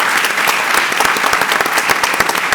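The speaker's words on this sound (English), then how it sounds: "I suggest applause at this point" Loud, dense applause from a conference audience for a panel of speakers, steady clapping from many hands throughout, close and unbroken.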